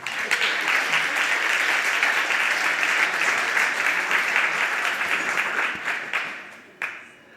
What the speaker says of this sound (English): And please applaud for the volunteers at Republika.